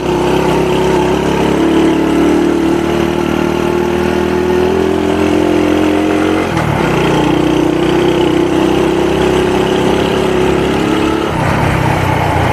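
A Honda Win motorcycle engine runs steadily and loudly up close, holding a constant harmonic drone with a brief dip in pitch midway before settling back, then shifting again near the end; no voices are heard.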